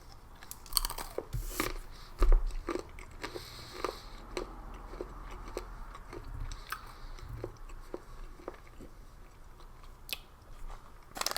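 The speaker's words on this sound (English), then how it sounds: "Banana chips." Crisp, repeated crunching of dry banana chips being chewed up close, with irregular bites and no talking.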